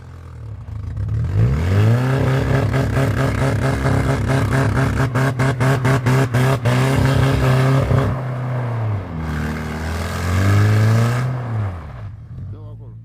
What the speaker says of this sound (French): Relâche franchement l'embrayage, Tari, sinon tu vas le bousiller.